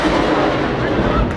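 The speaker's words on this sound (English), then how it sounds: "That's an outgoing rocket." An outgoing rocket launched in Iraq, a loud close roaring blast that fills the moment with a heavy, sustained rumble.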